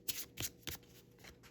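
A deck of affirmation cards being shuffled in several quick riffling bursts, close and fairly quiet, with brief pauses between.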